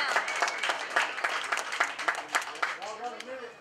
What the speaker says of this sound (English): let's give Billy up a big round of applause